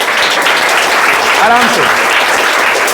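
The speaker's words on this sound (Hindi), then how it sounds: "ताली बजा दो भाई" Students at a school prize distribution for grammar and science tests applaud in a dense, steady round of clapping, with a voice briefly speaking over it.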